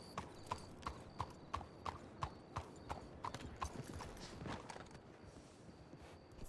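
In the Western video game Red Dead on the WildRP server, a horse's hooves clip-clop at a steady walking rhythm, soft and evenly spaced, with faint background ambience and no talking.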